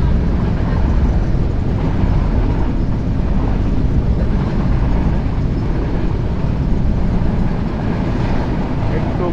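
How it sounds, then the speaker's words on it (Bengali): The Dhumketu Express runs at speed on the Jamuna rail route, a continuous loud low rumble and rattle heard from inside, steady throughout. "দারুণ স্পিড দিচ্ছে কিন্তু আমাদের ট্রেন"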